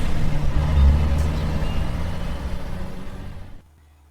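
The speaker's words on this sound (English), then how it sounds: "when a truck drives past, it also has a noise level of approximately 74 decibels" A heavy truck rumbles past close by on a road, a loud low-pitched engine roar of about 74 decibels holding steady before cutting off abruptly near the end.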